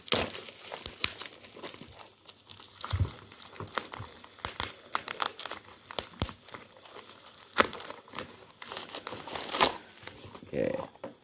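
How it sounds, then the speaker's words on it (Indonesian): The packaging of a mini HD wireless WiFi IP camera is unboxed, with loud close crinkling and tearing of plastic and cardboard in irregular bursts, and occasional speech in between. "kita unboxing dulu ya"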